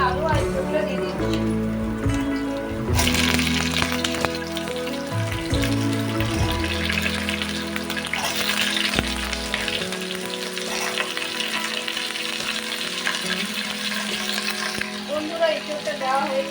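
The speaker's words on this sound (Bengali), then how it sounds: "আমি আলু আর ইঁচড়গুলো দিয়ে দিচ্ছি।" Potatoes and jackfruit go into a hot pan and start to fry, and a loud sizzle and crackle carries on steadily while a voice talks and musical tones play early on.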